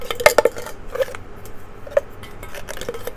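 A small spoon clinks against a container while Amado collagen powder is scooped, with a quick cluster of light, close metallic taps and scrapes early on and a single softer clink later.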